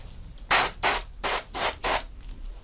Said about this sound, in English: I'm spraying in different intensities